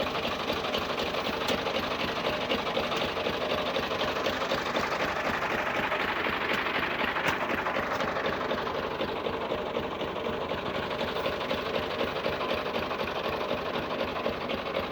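An Al-Ghazi tractor engine runs steadily throughout while the stuck tractor is being worked free, a continuous dense mechanical drone with rapid ticking pulses and no pauses or talk.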